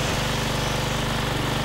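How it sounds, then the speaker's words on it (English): Lawn mower engine in the video game Lakeview Cabin, a loud, steady buzzing drone with a fast regular chug, close and continuous. "I'm mowing up the lawn."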